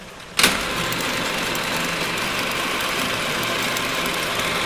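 A vertical milling machine running on its own motor starts with a sudden onset, then settles into a steady mechanical hum and whir that continues evenly with no talking.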